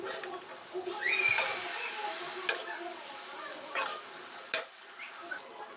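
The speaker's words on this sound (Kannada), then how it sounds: "ರೈಸನ್ನು ಹಾಕಿ ಚೆನ್ನಾಗಿ ಮಿಕ್ಸ್ ಮಾಡಿಕೊಳ್ಳಿ" A spatula scrapes and stirs fried egg and rice in a pan, with soft sizzling and intermittent sharp clinks against the metal, fairly quiet and close.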